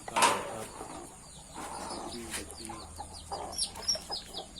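Domestic chickens cluck close by inside a backyard coop, a sharp squawk at the start followed by scattered soft clucks and rustling, with no talk.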